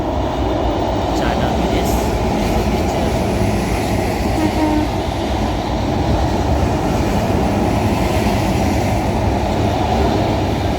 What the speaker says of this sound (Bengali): পাশাপাশি আপনারা এই যে দেখুন একটি ট্রেন যাচ্ছে আসলে চায়না ব্রিজ